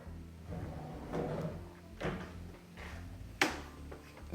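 A drawer slides open and bumps shut, with a few soft wooden knocks and clatters close by in an otherwise quiet room.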